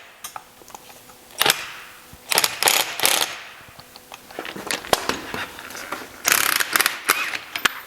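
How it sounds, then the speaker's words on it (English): Impact gun bursts rattling on the top nut of a Porsche Boxster strut, several short loud hammering bursts with pauses between, up close in a garage with no talking. "I'm going to crack the nut loose using my impact gun first"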